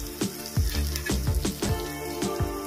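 Tomatoes cooking down with ginger-garlic paste in a pan, a close sizzle punctuated by a rhythmic series of stirring scrapes and knocks roughly every half second, no voices.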